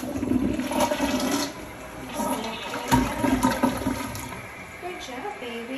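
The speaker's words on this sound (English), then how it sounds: "Flush it now." A household toilet flushing during cat toilet training, a loud close rush of swirling water that drains and refills across the whole stretch, with a brief voice faintly mixed in.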